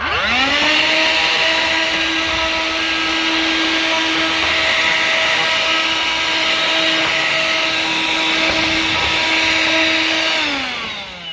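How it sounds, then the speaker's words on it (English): A vacuum cleaner motor whirs up to a steady, loud drone and runs continuously before winding down at the end, cleaning around a car's air filter area. "just give it a quick vacuum"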